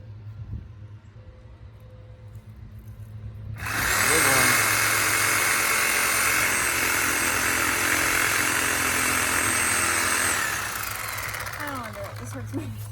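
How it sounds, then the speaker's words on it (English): A power tool starts up and runs at a steady high whine for several seconds while cutting down a yard plant, then winds down; people talk before and around it outdoors. "You should just cut the whole thing down."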